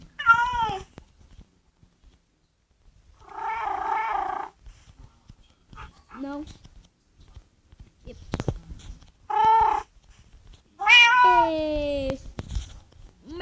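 Several video game cat meows, some drawn out and wavering, with scattered clicks and a brief voice between them in a quiet setting.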